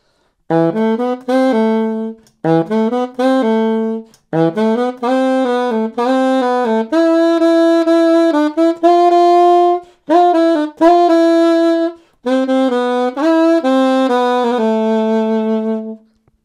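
A solo saxophone plays the melody of Bella Ciao, clear and lively in short phrases with brief pauses, bright and close, with no other instruments.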